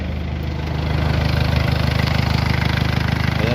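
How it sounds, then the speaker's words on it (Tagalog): A repaired engine idles smoothly and evenly close by, with a steady low chugging pulse and fast, regular firing ticks, loud and unbroken with no voices. "Ayan na yung makinang nahuling natin. Ayan o. Parang brand new ang andar."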